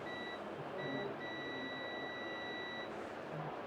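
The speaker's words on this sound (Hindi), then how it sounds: "मैं लगातार रख रहा हूँ, सब पे बजर आ रहा है" A multimeter's continuity buzzer sounds while MOSFETs on a Mahindra Treo controller circuit board are probed: steady high beeps, two short ones and then a longer held tone, fairly quiet against low room noise.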